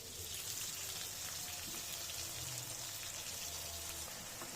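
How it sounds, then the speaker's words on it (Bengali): Tomatoes sizzle in hot oil for a chutney on a two-burner home stove, a steady dense crackle and hiss like light rain that holds evenly throughout with no talking. "এখানে হচ্ছে টমেটো তেলে নিচ্ছি আর কি, চাটনির জন্য"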